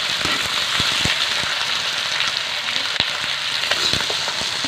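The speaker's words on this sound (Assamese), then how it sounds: "মাংসখিনি অকণমান ৰঙা হোৱালৈকে ভাজি লোৱা হৈছে" Chicken meat frying in a pan over a wood fire in a traditional kitchen, a dense close sizzle punctuated by scattered crackles and pops from the fire and stirring.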